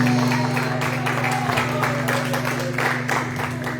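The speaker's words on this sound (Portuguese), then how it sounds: "Aplauda o Senhor Jesus." A church congregation applauds during a Sunday service, a dense wash of clapping from many hands that is loud and close, with a sustained organ or keyboard tone underneath.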